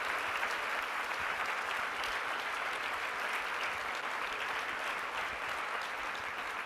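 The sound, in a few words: audience applause for business leaders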